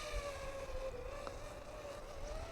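DJI FPV drone at full throttle, flown with the motion controller, giving a steady high-pitched motor whine that drifts slightly in pitch, moderately distant and continuous throughout.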